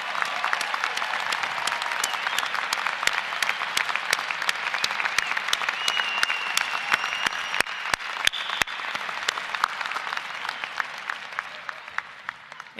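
A large commencement audience at a university graduation applauds the honorees in a long, steady round of clapping, dense and even throughout with a few sharper individual claps standing out.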